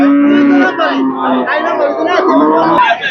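A pregnant dairy cow moos loudly and at length nearby at a cattle market, with faint crowd chatter in the background.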